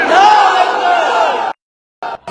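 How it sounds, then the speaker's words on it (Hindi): A large crowd at an AIMIM public rally in Govandi roars a slogan back in unison, one loud sustained shout of about a second and a half, followed by silence and then a couple of shorter crowd bursts. "मेरे साथ नारा लगाइए, नारे तकबीर।"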